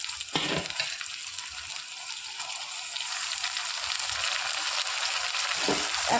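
Onion, ginger-garlic paste and chopped tomato frying in a pan, giving a steady bright sizzle with scraping stir strokes near the start and again near the end; close and continuous, with no talking.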